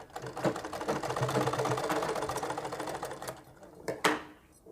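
A sewing machine stitches a neck strip onto a kurti, running in a close, fast mechanical rattle for a few seconds before slowing and stopping with a couple of clunks.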